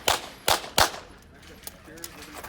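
Three sharp, loud gunshots ring out in quick succession during a practical shooting match at the 2020 North Texas Open, followed by a stretch of quieter, fainter pops and clicks.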